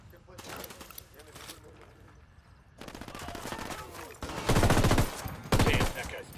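Bursts of automatic gunfire in the Ghost Recon Wildlands video game, rattling volleys that grow louder and more intense toward the end, with combat voices shouting in between.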